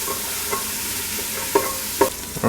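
Leeks, fresh jalapeno and bacon sizzle steadily in a pan, with a few scraping stirs of a utensil rising over the close, continuous frying hiss.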